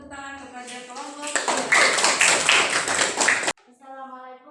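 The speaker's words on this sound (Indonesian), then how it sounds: "Beri tepuk tangan kepada kelompok." In a classroom teaching session, people clap for a presenting group: a burst of quick, fairly close clapping lasts about two seconds between stretches of voices, then stops abruptly.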